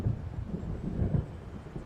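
Low rumbling thunder of an approaching storm rolls through a dark lakeside scene in the video game Alan Wake, a steady, moderately loud murmur with slight swells and no voices.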